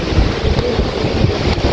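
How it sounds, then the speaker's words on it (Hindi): Sea waves wash onto a beach under strong, buffeting wind that roars steadily across the microphone, with the surf a continuous loud rush and no voices. "समंदर की लहरें लेकर इतनी खूबसूरत और ठंडी हवा है ना"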